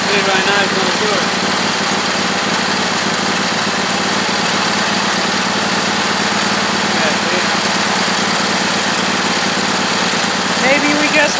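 A Husqvarna YTH2448 lawn tractor engine idles steadily at close range, a continuous even drone that holds the whole time, with people talking over it in places.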